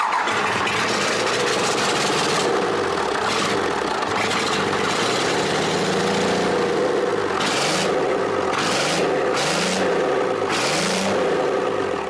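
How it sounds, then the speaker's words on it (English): A Cummins diesel truck engine starts and keeps running loud and close, a steady heavy rumble with repeated rising and falling revs, with no voices over it. "Time to start the engine."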